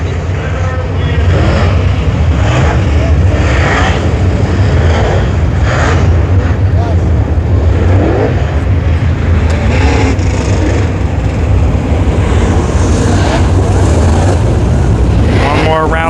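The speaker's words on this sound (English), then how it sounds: "What a sight here to see all the super late models 4 wide on the track at tonight's 30 lap feature event." Super late model race cars run four wide at Brownstown Speedway during a 30-lap feature, producing a loud, continuous, dense roar of many engines that holds steady throughout.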